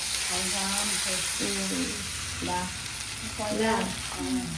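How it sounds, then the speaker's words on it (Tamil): Parrotfish fries in coconut oil with a dense, loud, continuous sizzle, while voices talk intermittently over it. "தேங்காய் எண்ணெயில் தான் வந்து நம்ம கிளி மீன் வந்து பொரிக்கிறோம்."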